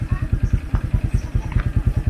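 A motorcycle engine idles close by, putting out a steady, rhythmic low putter of even pulses, with faint background sounds over it.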